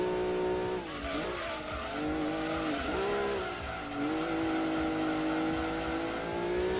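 Gran Turismo 2 racing game with a Subaru Impreza Wagon drifting, a steady engine drone under long sliding tire squeals that rise and fall as the car slides through corners, loud and continuous.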